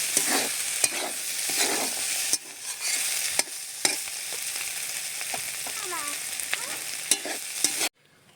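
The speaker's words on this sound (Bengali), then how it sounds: "আর আমার এপাশে ভেন্ডি, আলু, বরবটিটা ভাজা হয়ে গেছে, এটা লাবিয়ে নেব।" Steady loud sizzling of okra, potatoes and yardlong beans frying in a wok, broken by repeated scraping stirs of a spatula, then it cuts off abruptly.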